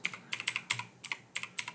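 Fingers tap out quick bursts on a computer keyboard, crisp close clicks in irregular clusters with short pauses between, no voices.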